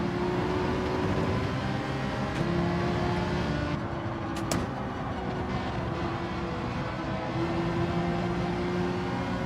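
A Porsche race car's engine in Gran Turismo 7 at Fuji, droning loudly and continuously at high revs with slight shifts in pitch, no voices over it.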